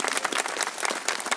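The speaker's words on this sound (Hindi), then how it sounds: "जोरदार आपकी तालियां आनी चाहिए" An audience at a poetry gathering during the Mahashivratri fair in Khajuraho breaks into brisk, crackling applause, a short burst of many hands clapping close and fairly loud.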